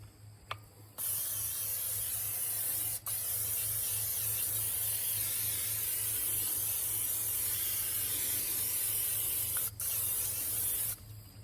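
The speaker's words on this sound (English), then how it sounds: "You can just buy regular old cooking spray." Vegetable oil cooking spray hisses onto a BBQ grill in one long continuous burst, close and steady, framed by short pauses at the start and end, with a brief break partway through.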